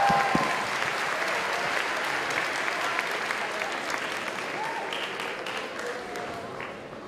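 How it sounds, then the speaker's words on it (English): An audience at the Mr. Harriton 2018 pageant applauds the contestants with sustained clapping and a few cheers from a crowd in an auditorium. The applause starts loud and slowly tapers over several seconds, with no speech on top. "let's give another round of applause"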